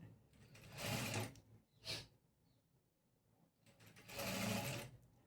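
A sewing machine runs in two short bursts, about a second each, stitching through blouse fabric and its lining, with a quick mechanical whir between the bursts, all fairly quiet and close.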